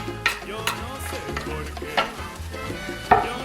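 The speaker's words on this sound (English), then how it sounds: "As that's heated up now, I think it's ready for the onions to throw in." Onions frying in hot oil in a pot, with a crackling sizzle and several sharp stirring clinks and scrapes spaced across the moment.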